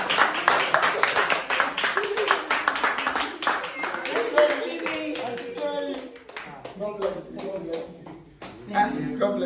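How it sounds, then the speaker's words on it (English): Guests at a birthday party clap loudly and close, a fast, dense patter of hands that thins out midway, with voices talking and calling out over and after the clapping. "Clap for him now."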